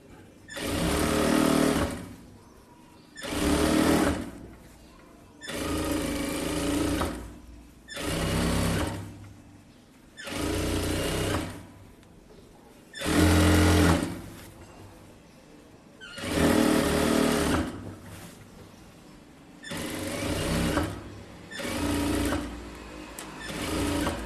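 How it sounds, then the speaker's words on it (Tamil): A sewing machine runs rough straight stitching on a blouse in about ten short bursts of rapid whirring, each separated by brief pauses, close and steady. "இது வந்து நான் சும்மா ரஃப்பாக தையல் போடுறேன்."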